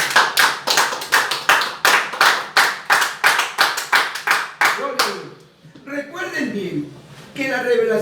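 Church congregation clapping hands in unison at a Spanish-language service, loud rhythmic claps in a steady beat for about five seconds, then trailing off into scattered voices and talk.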